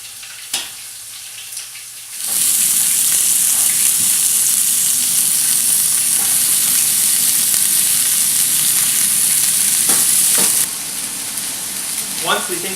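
Wagyu beef chunks hit a hot pan already holding smoky bacon, bursting into a loud, steady sizzle that holds for about eight seconds before easing to a softer fry, with faint stirring scrapes.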